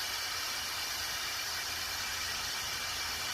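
Steam hissing from the petcock valve of a pressure cooker during a low-carb pot roast, a continuous loud, broadband rushing hiss that holds steady throughout with no talking.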